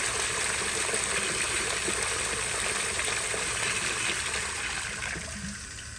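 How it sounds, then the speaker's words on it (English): A miniature 3D-printed prototype Berlin toilet, about 10 inches, flushes with dirt piled in the bowl: a close, continuous rush and gurgle of water that holds steady, then tapers off toward the end. "Here's a flush."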